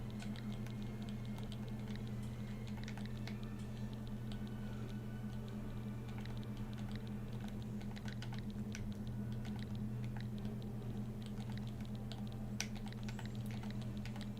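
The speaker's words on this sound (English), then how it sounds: "We're just typing a message to the people." Quick, irregular clicks of a computer keyboard as a message is typed, a close, continuous patter over a low steady hum.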